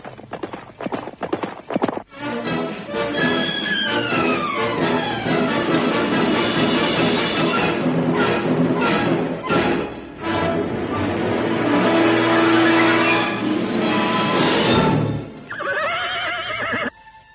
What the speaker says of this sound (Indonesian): terdengar derap 2 ekor kuda semakin lama semakin dekat